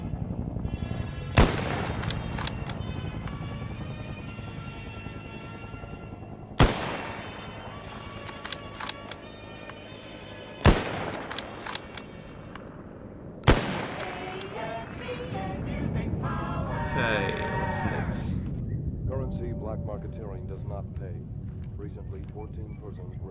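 Four sharp gunshots ring out a few seconds apart in the video game ARMA 3 S.O.G. Prairie Fire, each followed by a ringing echo, with someone talking in between and a muffled burst near the end.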